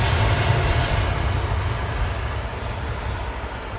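A jet airliner taking off from London Heathrow roars as one continuous, loud engine rumble with strong low-end power, easing slightly as it climbs away, with no voices.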